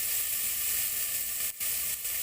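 Tomato cooking in a pan for sambar, giving a steady, even hiss of sizzling with no stirring, briefly dipping twice, with no talk.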